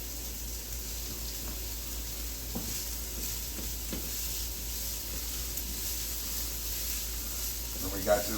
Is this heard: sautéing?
yes